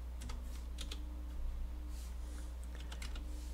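Typing on a computer keyboard during Python coding, light clustered key taps in short bursts over a steady low electrical hum.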